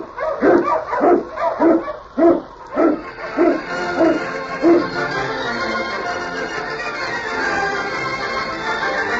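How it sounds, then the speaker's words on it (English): Eskimo husky lead dog barking in a snowy Yukon trail setting, a run of about eight sharp, evenly spaced barks over the first five seconds, fairly close, then fading into a steady windy background hiss. "King, the swiftest, strongest of Eskimo lead dogs, blazes the trail through storm and snow"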